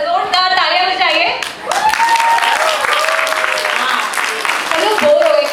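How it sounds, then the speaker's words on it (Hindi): An audience at an Independence Day celebration breaks into loud, sustained applause, with a few cheers and whistles rising above the dense clapping for several seconds. "जोरदार तालियां बजाइए"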